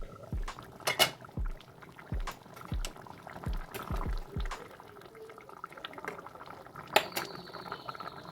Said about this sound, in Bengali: যাতে ভালো করে টকবক করে ফুটতে থাকে